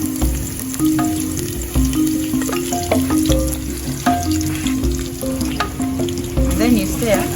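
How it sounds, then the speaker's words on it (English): Onions frying in cooking oil in a village kitchen, a steady close sizzle with crackles and occasional stirring clatter throughout. "You first put in your onions in the cooking oil."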